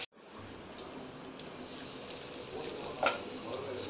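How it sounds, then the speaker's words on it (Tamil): Fish frying gently over low heat in a pan, a soft, steady sizzle with occasional crackles and small stirring noises, faint and without talk. "மீன் ஃப்ரை ஆயிடுச்சு."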